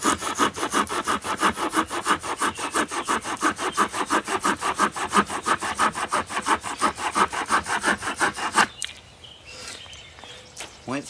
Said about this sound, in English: we're going to start with the Camelus saw